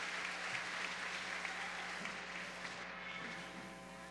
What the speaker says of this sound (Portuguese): Vamos agradecer ao padre Alexandre com uma salva de palmas